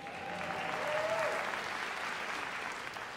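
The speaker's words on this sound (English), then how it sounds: "yeah, sure, we can clap for Duke" Audience applause fills a school auditorium during a high school fall instrumental music concert, a steady wash of clapping with a faint whistle-like tone early on and brief murmurs beneath.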